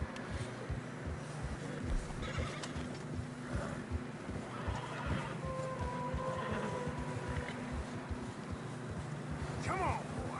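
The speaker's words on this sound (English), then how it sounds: "Horses are struggling." Horses in the video game Red Dead Redemption push through deep fresh snow, with close whinnies and snorts over a steady crunching, thudding hoof rhythm, while voices talk intermittently over them.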